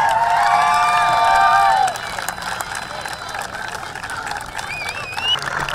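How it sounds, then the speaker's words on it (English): Crowd cheering and applauding after a girls lacrosse championship game, a dense roar with high shouts and whistles that is loudest at first and then settles into steadier clapping throughout. "how about a round of applause for these two outstanding teams?"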